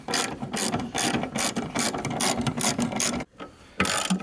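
A ratchet wrench loosening the bumper bolts on a 1968 VW Beetle, loud and close: rapid, even bursts of clicking pawl strokes, a short pause, then the ratcheting resumes.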